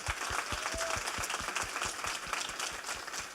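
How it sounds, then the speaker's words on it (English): Audience applause for an assemblyman at a college promise event, a steady wash of many hands clapping with regular, distinct claps standing out close by, no speech over it. "A really big round of applause to Assemblyman Lowe, please."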